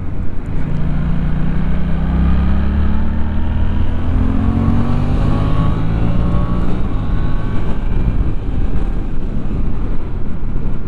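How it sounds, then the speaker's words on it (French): A Suzuki GSX-8T motorcycle with a compact under-engine exhaust rumbles deep and steady, its engine note rising and falling through gentle revs amid continuous wind rush, with no talking. "On a un petit bruit sympa, très profond, même si la gamelle est assez réduite sous la moto"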